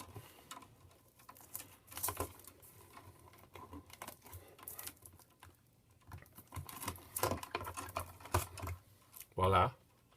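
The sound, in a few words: cutting sheathing off electrical cable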